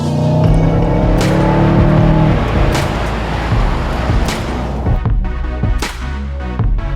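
A 2019 Mercedes CLA accelerating hard, its engine note loud and continuous close by, with a steady drone that rises and then settles into broadband road and wind roar marked by a few sharp transient thumps.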